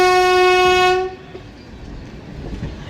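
A train heading toward Porbandar sounds a long, loud horn blast that stops abruptly, followed by the low rumble and faint clatter of the moving cars on an open track nearby.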